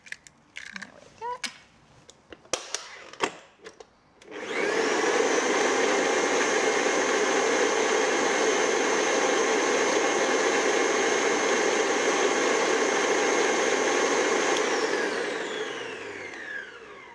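An electric stand mixer beats creamed butter and sugar with a freshly cracked egg for cake batter, a steady loud whirring drone running about ten seconds after some clattering handling sounds, then winding down.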